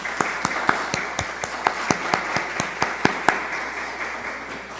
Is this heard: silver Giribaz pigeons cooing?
no